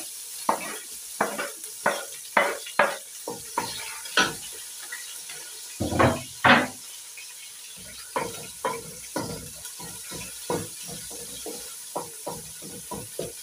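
Onions going into a pot of mashed food and being stirred, giving a steady run of short scraping, clattering strokes with a faint sizzle underneath, close and fairly loud, with no voices.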